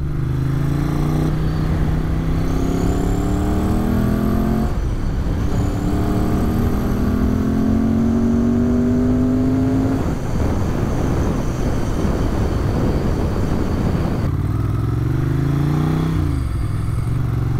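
A 1994 Ducati 900 Supersport motorcycle engine running loud and close, its throbbing note rising through the gears with shifts between them, then settling into a steady rumble.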